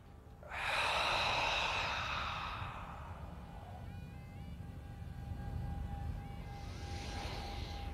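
Deep breathing during a gong yoga session outdoors in Central Park: a loud, close breath rushes out for about two seconds, then fades under a low steady tone and ambient hum before a softer breath follows.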